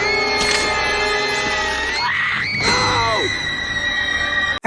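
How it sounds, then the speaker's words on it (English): A woman screams loudly and at length in the Spider-Man 2002 movie tie-in video game, with a shrill, sustained shriek that rises and wavers over game sound. "Kirsten Dunst has commented that she really does not like all the screaming women Sam Raimi likes to put in his movies."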